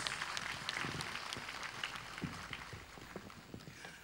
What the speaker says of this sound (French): Ça s'applaudit plus fort que ça